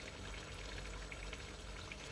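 Cold tap water pours steadily into a pot of white mealie meal, making a continuous splashing, bubbling rush at close range.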